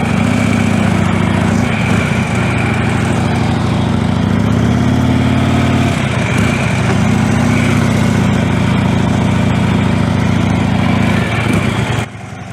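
A motorcycle engine idles and runs steadily at low speed through a slow turn. It makes a continuous loud, even drone with a slight rise and fall in pitch, then cuts off abruptly near the end.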